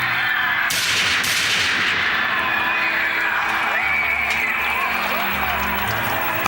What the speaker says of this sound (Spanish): Ali Ahka hizo 3 disparos a corta distancia